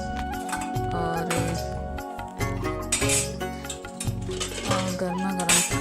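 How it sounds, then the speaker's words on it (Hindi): Metal dishes and cutlery clink and clatter while food is served in a village home kitchen, busy irregular chinks and scrapes close by, with brief gaps between handling. "मैं जल्दी से सबसे पहले ही देखिए पापा के लिए खाना निकाल रही थी।"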